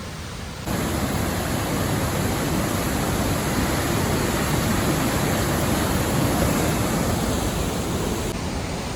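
A steady, dense roar of rushing water fills the scene, loud and unbroken throughout, like a rain-swollen waterfall in Wales heard from nearby.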